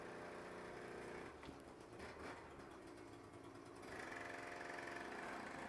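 A distant lawnmower engine drones steadily outside, a faint continuous hum that grows slightly louder and fuller partway through, with no voices over it.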